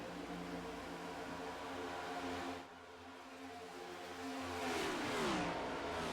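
Race cars in the iRacing sim at New Atlanta drone and whine steadily; a pass sweeps by with a falling pitch toward the end, all without talk.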